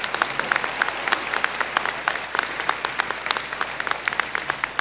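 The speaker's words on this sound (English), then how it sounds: "One more round of applause for Professor Steve Piscatelli." Graduation audience at a 2017 college commencement applauding a retired professor: sustained, even applause from a large crowd, with individual sharp claps standing out near the front and no speech over it.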